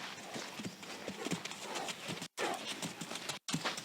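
Horse cantering in a collected gait during liberty training, with steady rhythmic clip-clop hoofbeats up close over a noisy outdoor background, broken by two brief dropouts.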